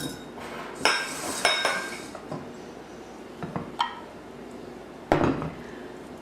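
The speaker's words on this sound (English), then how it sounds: "Now I'm just going to whisk that up together and then set it aside." One egg whisked together with half a cup of milk in a bowl: irregular, close metallic clinks and taps of the utensil against the dish, some sharper than others, with no talking.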